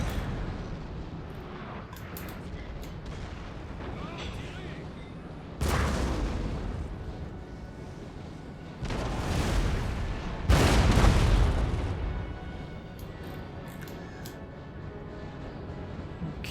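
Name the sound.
artillery cannon fire in video game Napoleon: Total War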